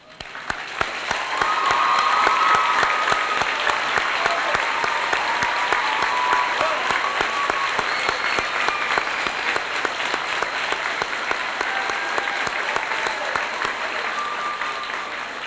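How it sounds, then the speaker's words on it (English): Sustained audience applause at a school graduation dinner dance honoring the teachers, a dense wash of many hands clapping that swells in quickly and holds steady and loud for its full length, with a few faint whistles and cheers mixed in. "River Grove teachers, please stand and accept a round of applause"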